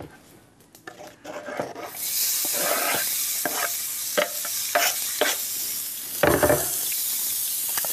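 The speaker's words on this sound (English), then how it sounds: "just enough so that we can saute up these beautiful onions sitting right here" Onions hit hot oil in a pan and break into a loud, steady sizzle, with scraping stirs of a utensil cutting through it now and then.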